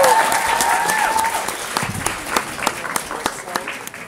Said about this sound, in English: I think you guys should clap for that